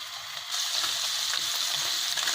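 Paneer shallow-fries in about two spoons of oil in a heated frying pan, giving a loud, continuous hissing sizzle that swells after a brief quieter start and holds steady, with no talking.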